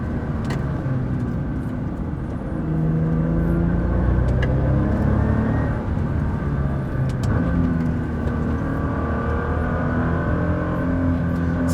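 A Nissan GT-R drives along with a steady, loud low engine rumble and road noise throughout, the drone rising slightly partway through and holding constant with no talking.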